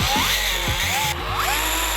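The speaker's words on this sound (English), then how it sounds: "I'm gonna do these 4 screws that hold the foot pads in place from the bottom." A power drill drives the four screws holding the foot pads on a Onewheel GT, working from the underside, with a steady close motor whine and several short bursts of torque changes across two seconds.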